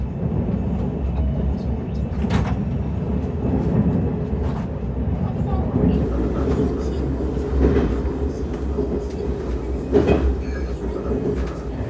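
Inside a Korean high-speed bullet train running at speed on the Seoul to Busan route: a steady, loud, low rumble with a few sharp clacks and faint background voices throughout.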